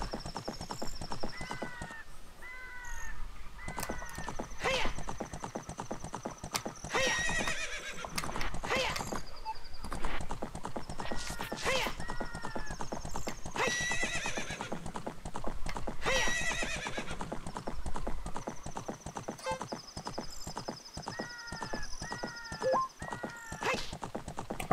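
Horses in the video game Zelda: Ocarina of Time whinny repeatedly over a steady, fast clip-clop of hooves, the neighs recurring every few seconds with no speech.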